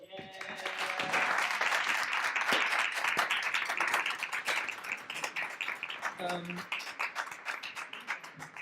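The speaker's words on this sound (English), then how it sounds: "the actors deserve really another round of applause." A theatre audience at a Yoruba-themed play event by the Royal Court Theatre and the Young Vic gives the director and actors a warm round of applause, dense and steady, swelling early and tapering slightly by the end.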